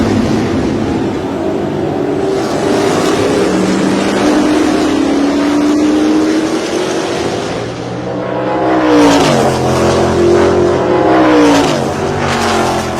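A 30-car field of Can-Am race cars at the 1967 Chevron Grand Prix roars off the start, engines droning loudly, then several cars rev and scream past in rising, sweeping bursts.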